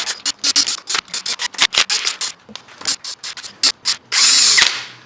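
A ratchet runs bolts down on a Honda B20 VTEC engine being built for an Integra swap, with quick bursts of rapid clicking separated by short pauses, close and loud, ending in a longer continuous whir.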